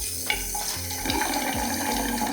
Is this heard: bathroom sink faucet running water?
yes